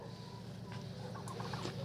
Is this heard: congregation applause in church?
no